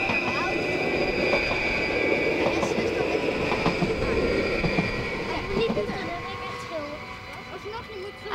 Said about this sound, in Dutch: zo meteen komt er nog een trein